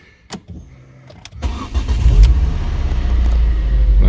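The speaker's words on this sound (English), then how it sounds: "let's get the car started" A Ford Focus ST engine cranks and fires after a few faint clicks, then settles into a loud, steady, rumbling idle that fills the rest of the moment close by.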